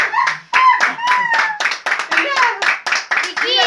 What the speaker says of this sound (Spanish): Para ella un fuerte aplauso